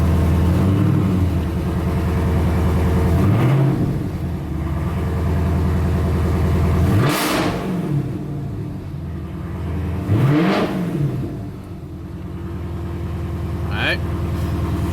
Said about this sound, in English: Verify you have throttle input by pressing the gas.